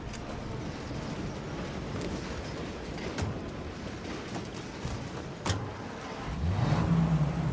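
A car rolls along city streets in Mafia Definitive Edition, a steady low engine hum and road noise with occasional thumps, the engine rising in pitch as it accelerates near the end.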